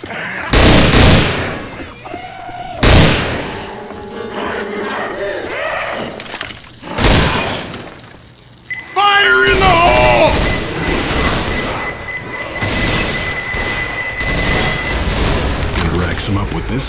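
Assault rifle gunfire in the Left 4 Dead 2 video game: a few sharp loud bursts early on, then a sustained stretch of rapid firing mixed with game effects, with people talking over it.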